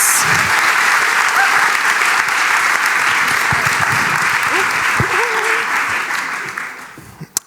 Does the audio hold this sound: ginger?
no